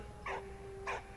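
Dog in the Valiant Hearts video game giving two short yips or barks about half a second apart, moderately loud over a low steady game tone.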